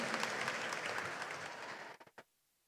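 Congregation applauding Roseline at a Sunday Kikuyu church service, a dense burst of clapping that holds steady, then thins to a few last claps and stops.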